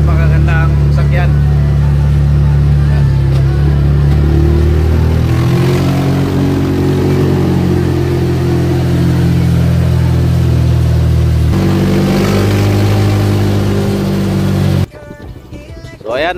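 A Honda Click 150i scooter converted into a three-wheeler runs its engine on a test ride, giving a loud, steady drone that rises and shifts slightly. People talk over it throughout, and the engine cuts off sharply near the end.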